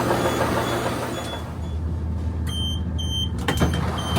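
Doors on an ex-Southern Class 170 diesel unit run by East Midlands Railway close over a steady engine hum, with a short run of warning beeps followed by a firm thud as they shut.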